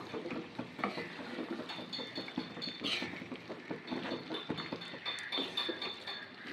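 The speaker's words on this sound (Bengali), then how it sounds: "এবার আমি মশলার সাথে আলু আর মটরটাকে ভালো করে মিশিয়ে নেব।" Fried potatoes and boiled peas are stirred into spice masala for ghugni, giving a soft continuous scraping and clinking of utensil against pan at low volume, with no talking.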